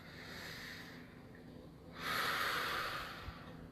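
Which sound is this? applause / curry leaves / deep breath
deep breath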